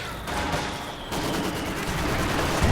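Dense gunfire from a Company of Heroes 2 battle, with bursts of machine gun fire mixed into a steady, loud crackle of rifle shots that runs throughout.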